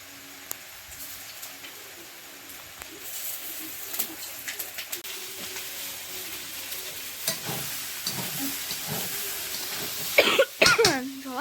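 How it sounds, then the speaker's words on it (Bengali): Greens (saag) go into a hot pan and start to fry with a soft, steady sizzle, plus some stirring and clatter. Birds coo in the background, and a loud burst of coughing comes near the end. No one speaks. "এবার এধারে শাকটা চাপাবো"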